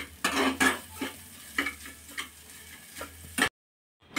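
Vegetable filling with coriander, for masala dosa bites, stirred in a pan with a spoon, making repeated scrapes and light clinks over a faint sizzle before a short silence.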